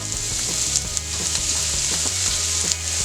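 Onion and garlic fry in a little olive oil in a skillet, giving a constant close sizzle with scattered crackles and pops and light stirring throughout.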